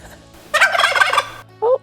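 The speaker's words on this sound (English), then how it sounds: "Oh, there's the gobble." Wild turkeys gobble from up in a tree, one loud rattling gobble followed by a shorter call, heard close in a quiet forest at night.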